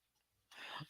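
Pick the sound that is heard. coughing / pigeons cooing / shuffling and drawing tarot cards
coughing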